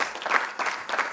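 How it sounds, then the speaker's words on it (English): Audience clapping at a professorial inauguration in a faculty of science hall, a brief burst of applause that swells and dips in waves. "Another period I think we need to give him a round of applause."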